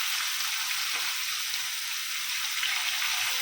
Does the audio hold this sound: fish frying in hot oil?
yes